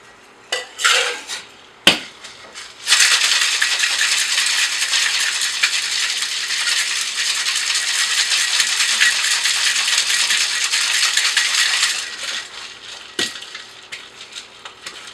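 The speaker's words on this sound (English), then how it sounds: "We're going to be shaking all the ingredients with crushed ice and straight into a wine glass." Crushed ice and cocktail ingredients rattle hard inside a shaker for about ten seconds, a loud, dense clatter, preceded by a few sharp clinks and followed by trailing knocks.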